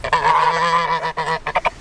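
Geese honk loudly and close by, a run of harsh nasal calls that breaks into several short separate honks near the end, with no talk over them.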